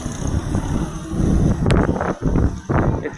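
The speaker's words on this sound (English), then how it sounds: "And in comes the Sentinel steam bus." Sentinel steam bus rolling in at an outdoor steam and country show, a loud, gusty mechanical rumble with hissing bursts and wind buffeting the microphone, alone without talk.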